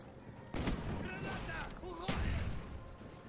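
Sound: gunshots from a Call of Duty video game

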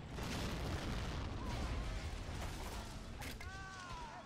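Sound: explosion in the video game Men of War

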